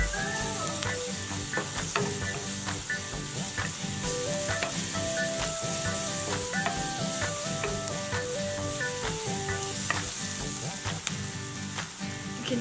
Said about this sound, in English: We don't want our ginger garlic to be raw, so we're gonna give it a good amount of sauteing